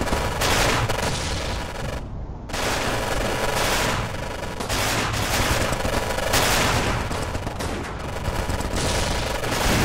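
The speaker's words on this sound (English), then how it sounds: "We're under fire." Dense, continuous machine-gun and rifle fire from the World War II strategy game Achtung Panzer Kharkov 1943, bursts overlapping into a loud, sustained fusillade with a brief dip near two seconds, no speech.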